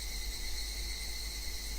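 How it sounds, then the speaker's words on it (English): Cicadas drone loud and continuous in the Higurashi When They Cry visual novel, a steady layered buzzing with no talk over it. "Only the cry of the cicadas remained, annoyingly loud"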